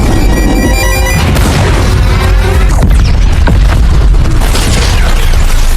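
A bomb goes off inside a giant Jaeger robot in the film Pacific Rim, a very loud, sustained explosive roar that fills the whole clip, with ringing tones at the start before the blast takes over.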